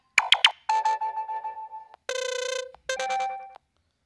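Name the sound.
phone ringtone preview on a Samsung Galaxy Note 3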